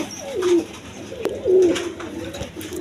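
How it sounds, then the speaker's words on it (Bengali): Lakkha pigeons at a farm give several low, rolling coos, close and fairly loud, with a sharp click in between. "দেখেন লক্ষা কবুতর"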